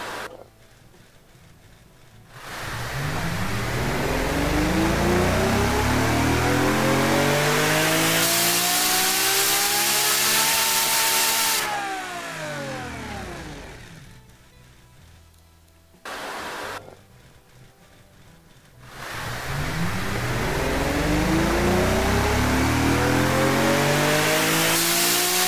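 A powerful V12 engine in the game Automation revs repeatedly, pitch sweeping up to a loud scream and falling back, with brief idling dips between pulls.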